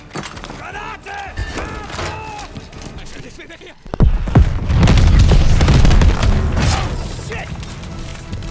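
A loud explosive boom from a grenade in a combat video game erupts midway, followed by a sustained rumbling roar, with voices shouting just before it.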